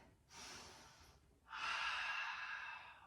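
Two deep breaths during a gentle beginner's yoga flow, a shorter inhale followed by a longer, fuller exhale, close and airy with no talking.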